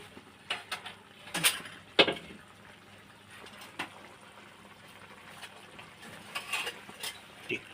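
Pangas fish pieces dropped into spice paste in a pan, giving a few close stirring clatters and soft wet sizzles that come in bursts and then settle to a quiet simmer.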